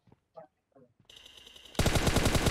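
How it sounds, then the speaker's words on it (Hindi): Gunfire in the mobile shooter PUBG Mobile begins after a few brief spoken words, first as a rising rattle and then as loud, rapid automatic bursts that fill the rest of the moment. "यहाँ पे भी हमने फायर और नॉक किया।"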